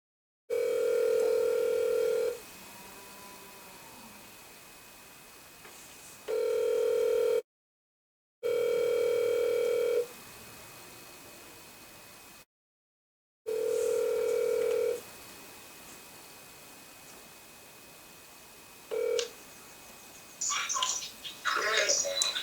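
An outgoing phone call rings through a handset, with long steady ringback tones repeating at even intervals and short silences between them, followed by faint clicks and rustling as the line picks up.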